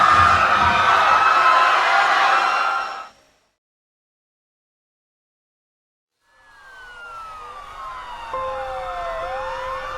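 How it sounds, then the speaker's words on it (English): Emergency vehicle sirens wail in a Trainz railway simulation game, rising and falling tones that cut off into a few seconds of silence before the sirens return, sweeping and steady. "In a few minutes, ambulances, police, and firefighters arrived quickly from the disaster Jessica caused"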